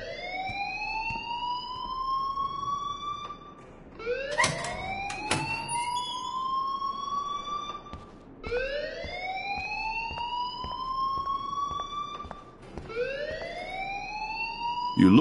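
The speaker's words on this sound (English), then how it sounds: "please turn off that alarm since that's your" A school alarm in the Life Is Strange game wails in rising, sweeping cycles that repeat roughly every four seconds, loud and shrill, with a few clanks in between and no voices.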